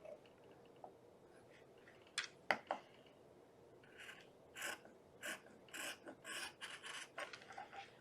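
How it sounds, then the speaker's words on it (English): Scissors snipping strips along the edge of a fleece blanket, a series of soft, close cutting crunches that grow more frequent toward the end, faint against a quiet room. "And then you're just going to continue cutting your strips as you have been all along that one side."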